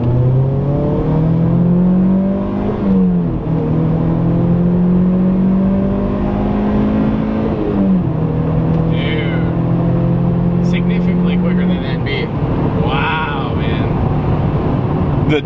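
A tuned full-bolt-on Mazdaspeed NC Miata pulls hard in second gear, its loud engine note rising steadily, dropping at quick shifts and climbing again, with brief chirps and clicks near the end.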